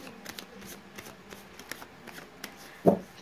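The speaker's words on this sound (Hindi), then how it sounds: "मैंने कर लिए कार्ड्स की सफलिंग" Tarot cards are shuffled by hand close up, giving a run of quiet papery flicks and light taps at an uneven pace, ending in a soft thump as the deck is squared.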